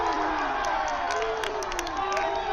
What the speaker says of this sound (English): You can hear the supporters going crazy.